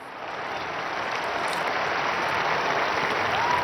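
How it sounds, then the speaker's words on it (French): A crowd of pilgrims applauding for Blessed Conchita at a papal audience, a dense, even wash of clapping that holds steady and swells slightly, heard from a distance. "je vous demande d'applaudir la bienheureuse Conchita"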